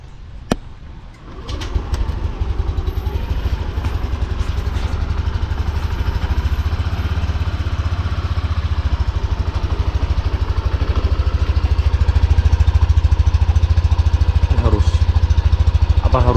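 A Yamaha NMAX scooter runs with oil poured into its exhaust, its engine throbbing in a close, steady, slightly rising drone after a brief quiet start, with a few birds calling in the background.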